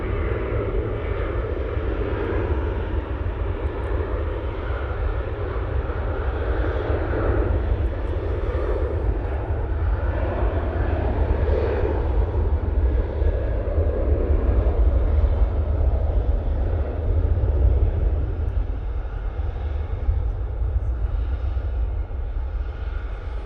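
A Ryanair airliner takes off from an intersection at Manchester Airport, its engines a sustained, steady rumble with broad roar that swells slightly midway, heard alone without talk.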